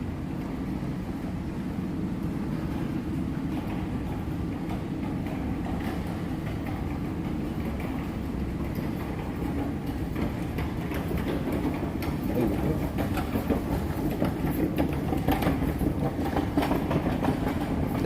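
Washington DC Metro train rolling past on its rails, a continuous low rumble with rhythmic clickety-clack of wheels, steady and close for the whole stretch, growing slightly louder near the end, no talking.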